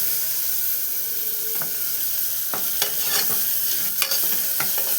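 A handful of lentils fries and sizzles in a pan, a steady crackling hiss broken by a few sharp clinks and scrapes of a stirring spoon against the pan.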